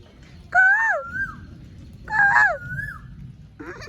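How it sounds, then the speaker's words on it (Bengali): An Asian koel calls from a tamarind tree in a village just after rain, two loud rising-and-falling whistled calls a second and a half apart, with the start of a third, over a quiet background. "তেঁতুল গাছে কুকিল পাখি ডাকতেছে"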